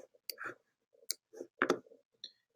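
Several sharp computer mouse clicks, crisp and near, are scattered among short bursts of talk while images are selected in a web search.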